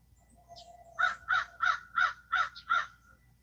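Crows cawing at dawn, a run of six evenly spaced harsh caws close by, preceded by a faint softer bird call, over a quiet low background.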